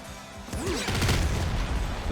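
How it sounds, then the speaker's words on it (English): Explosions in the top-down shooter game Nuclear Throne, a quick cluster of heavy booms and crackling blasts with a brief warbling tone before them, loud and dense for about a second and a half. "Meaty explosions."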